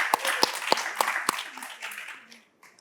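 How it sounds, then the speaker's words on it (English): Audience applause at a women-in-politics talk show, a short burst of scattered, fairly sparse claps that thins out and fades within a few seconds. "Let's give her a round of applause."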